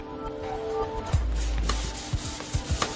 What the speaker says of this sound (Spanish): Preparamos el coche, lijamos todos los bordes y alisamos la superficie para poder pintarla